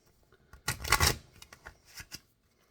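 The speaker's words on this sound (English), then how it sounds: "one more shuffle" Playing cards riffled and shuffled close by, a dense burst of flapping and ruffling followed by a few lighter taps and slides.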